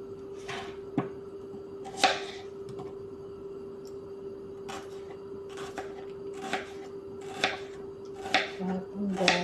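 Onion is chopped on a board while cooking, a few sharp, separate knife taps spaced out over a steady hum, close and fairly quiet, with no talk.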